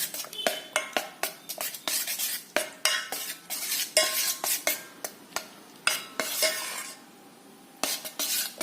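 A spoon stirs banana fry batter of maida flour and water in a bowl, a rapid run of clinking scrapes against the bowl's side with a few brief pauses, close and fairly clear.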